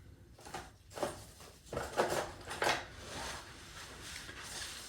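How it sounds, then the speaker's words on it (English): Spoon and other cutlery being picked up and handled in a kitchen, several light metallic clinks and rattles in quick succession, close and fairly quiet, no talk. "Let me get another spoon."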